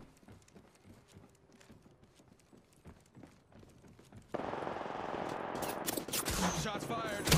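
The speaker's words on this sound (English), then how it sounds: "Shots fired." Gunfire in the video game Apex Legends, first scattered light taps, then a loud dense burst of automatic shots with sharp cracks that builds toward the end.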